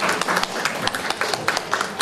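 A crowd at an Easter gathering of a University of the Third Age in Kałuszyn applauds the town mayor, a steady, dense wash of many hands clapping close by for the whole stretch.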